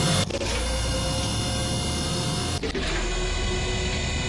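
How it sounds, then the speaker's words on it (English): A machine-like elevator sound effect for an RPG Maker game: a steady, loud mechanical hum and whir lasting about four seconds, with a brief clunk early on and another dip and knock partway through. "All right, got our elevator sound. So you can hear that lasts about 4 seconds."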